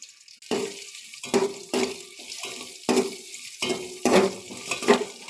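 Whole spices, dried red chillies, bay leaves and chopped ginger hit hot oil in a pan, giving a run of loud, crackling sizzle bursts, one after another, close up with no talking.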